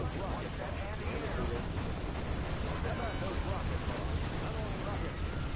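Quad 23 mm anti-aircraft cannons modelled on the Soviet ZSU-23-4 firing in Command & Conquer: Generals, a dense continuous rumble of rapid shots and blasts that fills the whole stretch, steady and moderately loud.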